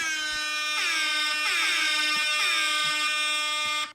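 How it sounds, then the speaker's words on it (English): Air horn sound effect played from a phone app, a loud sustained blaring tone with repeated pulsing swells, cutting off abruptly after about four seconds. "I gotta have my air horn app up."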